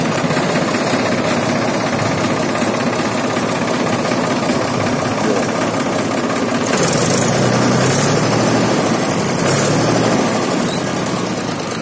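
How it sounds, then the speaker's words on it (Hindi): A 2001 Mahindra 265 DI tractor engine runs steadily, a loud continuous low chugging drone that thickens partway through as the revs rise slightly, with no talk over it. "बढ़िया इंजन है ट्रैक्टर का"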